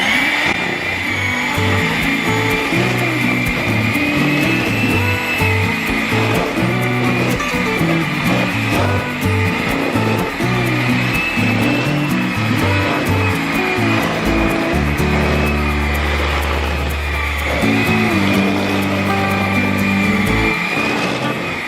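A loud electric mixer whirs continuously through edible cookie dough with a steady motor drone that shifts pitch partway through. No voices are heard.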